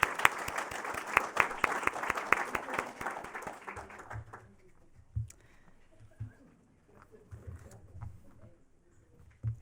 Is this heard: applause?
yes